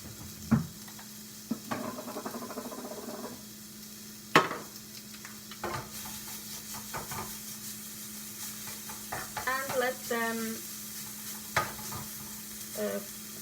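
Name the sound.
ribeye bits sizzling as they fry in a pan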